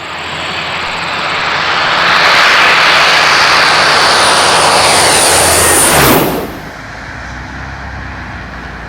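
Engines of an RNZAF Hercules military transport aircraft roar loudly as it passes close by, swelling to a peak before a quick drop in pitch and fading away.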